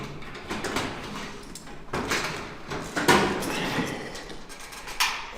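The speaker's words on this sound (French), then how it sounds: "La porte s'ouvre pas entièrement." An apartment door that does not open fully is pushed open, giving several dull knocks and a scraping slide with a sharp bump, close by and without talk.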